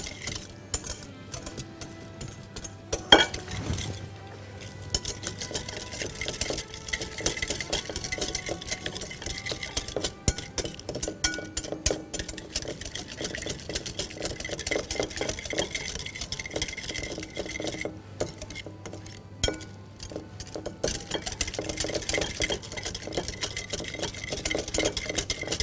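Oil being stirred slowly into a citrus salad dressing, a soft, steady patter of whisking and utensil clinks against a bowl that carries on close by for the whole stretch, with no talking.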